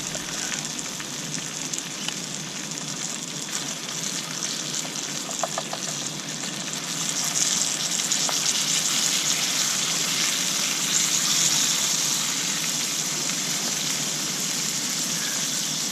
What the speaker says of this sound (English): Nothing like the smell of bacon in the morning. Just gonna put these mushrooms in.